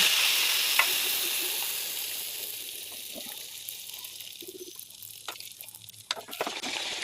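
Appam batter frying in hot oil gives a steady, bright sizzling hiss that fades slightly, with scattered pops and crackles near the end; no one speaks.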